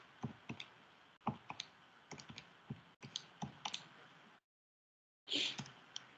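Keys on a graphing calculator pressed in quick irregular bursts of sharp clicks, close and fairly quiet, with a brief silent gap before a final few presses.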